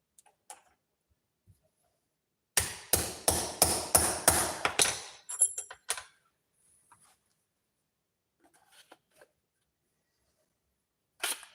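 Rapid series of sharp hammer strikes setting rivets into a knife handle, about eight blows in quick rhythm, close and loud, followed by a few lighter taps and then quiet.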